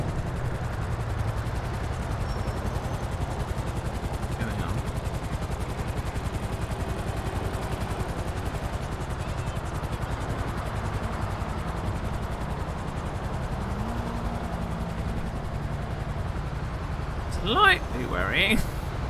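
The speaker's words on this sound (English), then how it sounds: "Why is there a helicopter" A helicopter in a video game hovers low overhead, its steady rotor drone rumbling continuously under a noisy game soundscape, with a brief burst of sharper sounds near the end.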